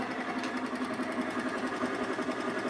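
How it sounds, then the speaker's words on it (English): A lathe turning a hollow wooden form with the cutting tool striking embedded screws gives a continuous rapid mechanical chatter, close and fairly loud and steady throughout, with no voices. "I'm hitting screws, dang it"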